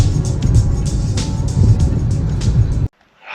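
Pickup truck engine running at a Minnesota turkey hunt, a loud, steady low rumble that cuts out abruptly near the end, followed by a faint hiss.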